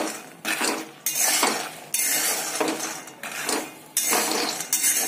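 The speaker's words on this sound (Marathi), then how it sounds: "मंद गॅसवर आपण हे शेंगदाणे छान क्रिस्पी होईपर्यंत भाजून घेणार आहोत।" Peanuts dry roasting in a pan over a low gas flame, with bursts of rattling and scraping as they are stirred, loud and close in uneven stretches.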